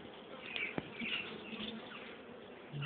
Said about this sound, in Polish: Nie no, pszczół jest dużo.